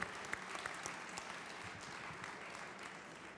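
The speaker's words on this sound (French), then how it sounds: "Ça s'applaudit effectivement très chaleureusement." Warm, sustained applause from an audience at the Cuisines en Scènes 2015 event in Lyon, soft and fairly distant, with dense steady clapping throughout and no speech on top.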